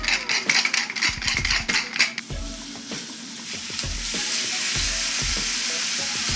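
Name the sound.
steak and short ribs searing in a cast iron skillet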